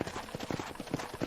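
Horse hooves clip-clopping in a corral in the Western game Red Dead Redemption, a quick rhythmic run of soft thuds at close range, fairly quiet.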